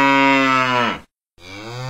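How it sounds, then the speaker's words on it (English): A cow moos loudly and close by in one long, drawn-out call, breaks off into a brief silence, then starts a second moo. "Cow."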